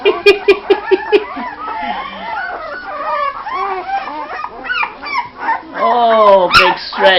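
Young puppies whimper and yelp in high, wavering cries, a quick rhythmic run of short squeals followed by longer whines, loud and close, while a voice talks over them.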